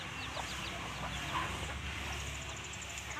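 Chickens clucking in a rural village yard: scattered short clucks and chirps over a steady, faint outdoor background.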